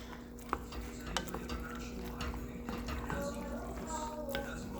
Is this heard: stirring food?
yes